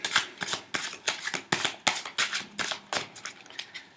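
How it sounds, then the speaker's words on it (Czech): Playing cards are shuffled in quick repeated riffles, a rhythmic series of crisp fluttering bursts close to the listener. "Zamíchám karty."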